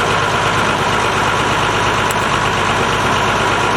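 An Oliver 1850 Wheatland diesel tractor with a bad clutch and hydraulic pump runs revved up, a loud, close, unbroken diesel drone with steady rough vibration and no pauses.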